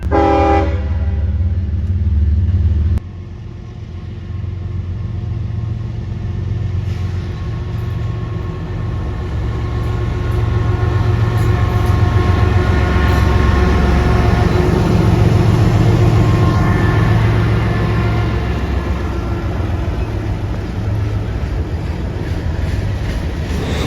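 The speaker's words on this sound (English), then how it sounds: "Yes, this is another local rock train slash whatever with a CSX ES40DC and a CM44." A CSX local rock train led by ES40DC and CM44 locomotives passes close by, a heavy sustained rumble of engines and rolling railcars with a steady mechanical drone throughout.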